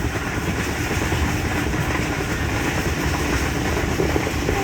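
The Millat Express, running Sargodha to Karachi in Pakistan at high speed, gives a dense, steady roar of wheels and rushing air heard close, with faint clickety-clack and no talk.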